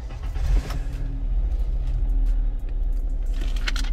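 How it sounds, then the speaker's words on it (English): A 2021 Suzuki S-Presso Special Edition with manual transmission starting up, a brief crank then a steady low engine idle rumble heard close from inside the car, without speech. "This is the start of the Espresso."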